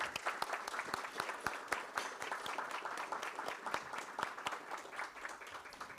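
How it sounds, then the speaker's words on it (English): Applause for students at a school district board meeting, a steady round of many hands clapping with distinct sharp individual claps standing out, sustained for several seconds before easing slightly. "Let's give all of those students one more round of applause."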